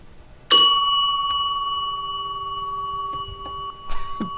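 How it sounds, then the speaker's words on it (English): A bell from the film Barton Fink rings with one sharp strike and a long, ringing reverberant decay, followed by a softer second strike near the end. "Way to reverb on that bell."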